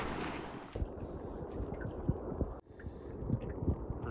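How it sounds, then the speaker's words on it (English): Small stream rapids tumble at the Lake Granby inlet in Colorado, a steady close wash of rushing water with wind buffeting the microphone and a brief dip partway through. "Little rapids or waterfalls right here."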